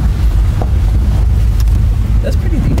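A car drives through a deep creek crossing on the way to Enchanted Rock, with a loud, rumbling wash of water and wind buffeting the microphone in a continuous roar.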